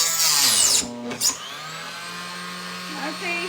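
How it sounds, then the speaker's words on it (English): A power tool whirs loudly indoors while working scrap wood, stops briefly with a whine, then winds down to a quieter hum as a voice speaks. "I'm using a power tool in the house."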